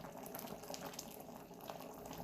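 Hot water pours into a cooking pot of goat meat for curry, a continuous soft splashing and bubbling stream, fairly quiet and steady throughout with no talking.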